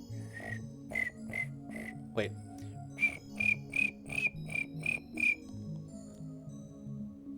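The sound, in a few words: voice imitating a cricket chirp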